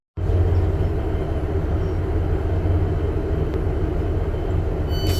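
A train rolls into a northern railway station, a loud, steady low rumble and rattle of wheels and carriages that holds throughout without any voices.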